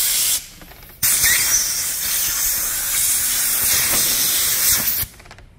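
A loud, steady blast of compressed air hisses for about four seconds after a brief short puff, then cuts off abruptly, heard up close on a motorcycle. No one talks over it.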